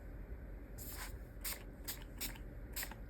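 A spray bottle gives five quick, hissy spritzes of water onto a journal page, evenly spaced, fairly close and soft against a quiet background.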